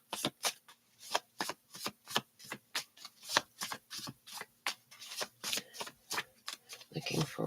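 Tarot cards are shuffled by hand in a quick run of crisp, close riffles and slaps, dozens of short bursts in a rapid, slightly uneven rhythm.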